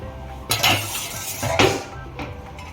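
Grated potatoes being washed in water in a large metal vessel, with two bursts of clanking and sloshing against the pot in a quiet kitchen.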